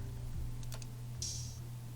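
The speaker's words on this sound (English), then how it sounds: "After there was an open hat." An open hi-hat sample from a trap beat rings out as a single bright, sustained hiss after a few short clicks, fading over about a third of a second above a steady low hum.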